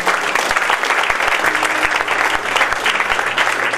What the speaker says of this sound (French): Acclame le Seigneur très fort.